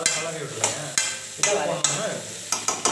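Steady sizzling and crackling of vegetables sautéing in a hot pan, broken by sharp, irregular scrapes and clatters of a utensil stirring, with no voices.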